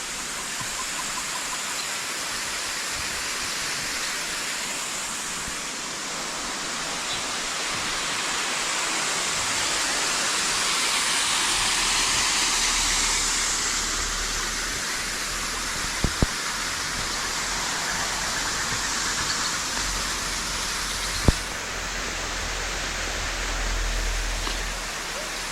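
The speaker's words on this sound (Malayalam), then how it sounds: "ഇതിനടുത്തൂടി ചാലക്കുടി പുഴ ഒഴുകുന്നുണ്ട്" The Chalakudy river near a resort at Athirappilly gives a constant broad rushing hiss of flowing water that swells slightly midway, broken only by a couple of sharp clicks and no speech.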